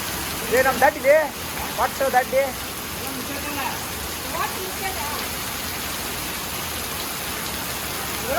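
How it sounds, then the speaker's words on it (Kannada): Heavy rain pours down in a village near Badami, a dense, steady hiss throughout, with brief voices heard over it at the start. "ನಮ್ಮ ಊರಾಗ ಫುಲ್ಲು ಮಳೆ ಹೆವಿ ಮಳೆ"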